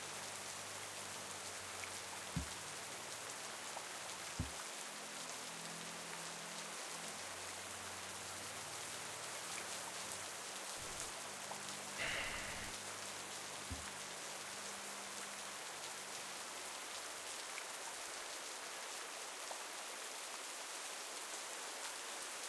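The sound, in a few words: rain falling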